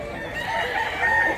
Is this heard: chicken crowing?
yes